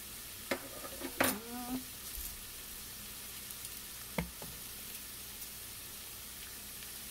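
Brussels sprouts with bacon are stirred in a frying pan, a quiet sizzle under a few spoon scrapes and clicks, with a short hum from a person.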